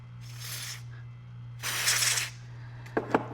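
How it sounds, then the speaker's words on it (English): Contact cleaner sprayed onto radio fuse prongs in two close, loud hissing bursts about a second each, followed by a couple of small clicks, over a steady low hum. "use some of this contact cleaner and just spray it on the prongs like this"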